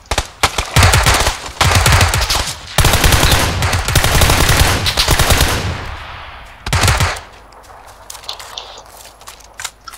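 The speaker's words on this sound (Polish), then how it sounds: "I ktoś do niego strzela." Bursts of automatic gunfire in PUBG, loud and close, coming in long sustained volleys with short gaps between, then one shorter burst before it fades to quieter ambience.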